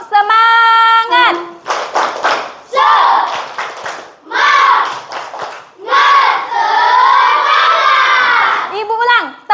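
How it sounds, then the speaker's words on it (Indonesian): Children shout together and clap in time in a classroom clapping chant, loud group voices alternating with bursts of rhythmic hand claps, an adult's voice leading at the start and end. "Oke, tepuk semangat"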